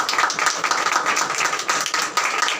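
A church congregation claps together in a quick, uneven patter that keeps going steadily, close and fairly loud, with no talking over it.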